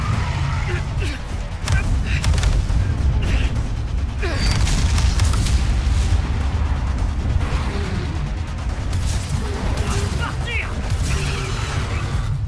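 Shots fired at a dragon in Immortals of Aveum, dense rumbling booms and crackling magic bursts layered with continuous battle noise, loud and sustained.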